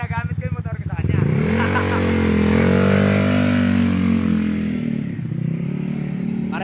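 Revving engine of a Yamaha Mio Sporty scooter with a 225cc liquid-cooled setup, 66mm bore, forged pin and lightened rod, held loud and close at a steady high pitch after a brief choppy start, with people talking over it.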